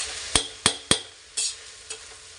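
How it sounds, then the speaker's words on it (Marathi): Spiced ingredients for a yogurt masala rice are tossed in a pan: five separate sharp scrape-and-sizzle strokes, the first three quick and loud, the last two slower and softer, over a faint frying hiss. "असं छान असं परतू देणार"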